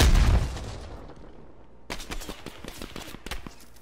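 Light machine gun fire in Call of Duty: Black Ops Cold War multiplayer, opening with a heavy booming blast, then a lull before a rapid string of sharp automatic shots.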